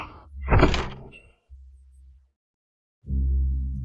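A door handled in a dramatic scene, with a rattling thunk and a heavy low swell as it moves, followed by a deep rumbling surge, close and loud.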